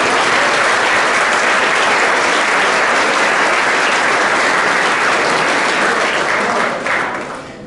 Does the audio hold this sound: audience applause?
yes